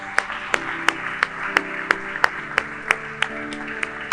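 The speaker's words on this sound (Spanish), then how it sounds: "Le damos un aplauso fuerte a Jesús." A church congregation claps in slow, regular unison beats, about three per second, sharp and close, over a sustained organ-like musical tone.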